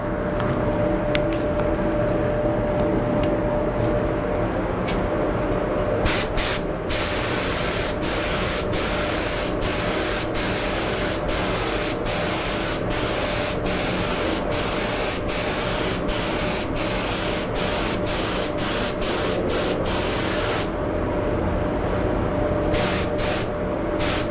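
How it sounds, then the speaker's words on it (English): A steady, loud hiss of a spray gun applying clear lacquer to the back of a guitar runs continuously, with a few brief breaks and sharp clicks as the trigger is released and pressed again. "I'm going to spray a final light coat of clear lacquer over the back"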